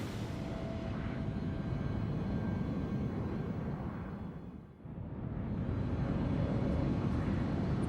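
American Airlines 965, an airliner in flight, gives a steady broadband engine roar that dips briefly near the middle before swelling back to full strength.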